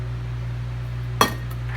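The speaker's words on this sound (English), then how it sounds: "In our mixer we have our third cup of sugar, our zest of 1 lemon, and we're going to add in our 2 eggs." Two eggs go into a mixer bowl already holding sugar and lemon zest for an apple cake, making a single sharp clink against the bowl over a steady low hum.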